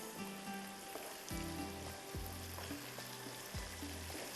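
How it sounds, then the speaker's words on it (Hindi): Masala and chilies roasting on a hot tawa, a steady close sizzle with a low background hum and a few soft scraping knocks as they are stirred. "बस इसको आपने अच्छी तरह से फ्राई करना है"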